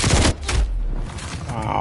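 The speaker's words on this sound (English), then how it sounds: "Sentry turret." Sentry turret firing in a Call of Duty-style multiplayer shooter, a rapid burst of automatic gunfire followed by thuds and game sound effects, loud and close, with a voice briefly heard.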